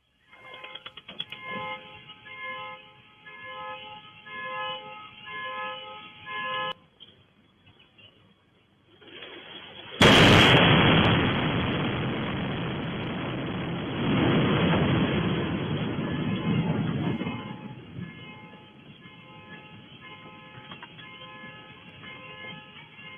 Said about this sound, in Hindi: ईरान ने इजराइल पर बैलिस्टिक मिसाइल से हमला किया है।